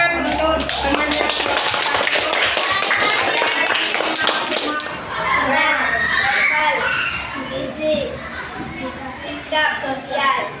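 Classroom of children clapping together for a classmate, a dense, steady burst of many small hands patting at close range, with kids' voices chattering under it before the applause thins out toward the end.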